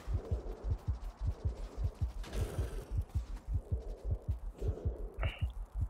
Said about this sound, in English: My heartbeat is going again.